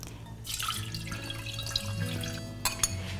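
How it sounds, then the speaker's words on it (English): Milk is poured into a cooking pot while making an egg pie, a steady liquid pour with some splashing and trickling that runs for about three seconds with no talking. "So we're going to start by adding some milk"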